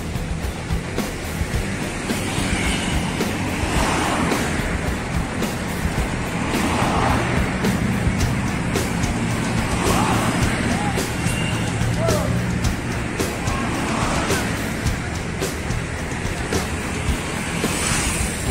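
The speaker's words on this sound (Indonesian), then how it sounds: "Bugilamo menjadi pembuka keberangkatan bus ANS, teman-teman." ANS Bugilamo bus pulling away, a steady engine drone with low rumble and wind-like roar throughout, people talking faintly underneath.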